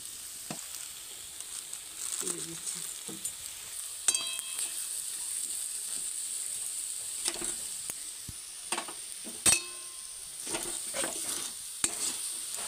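Ghee sizzles in a pan of banana-stem curry, a steady close frying hiss running throughout with occasional soft clinks and scrapes of a stirring spoon.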